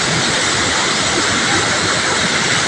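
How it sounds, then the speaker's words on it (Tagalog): Water roaring through the spillway of the Lumbayao dam in Valencia, a loud, dense, continuous rushing roar that fills the whole clip, close and unbroken. "Ang ingay ng tubig na dumadaloy."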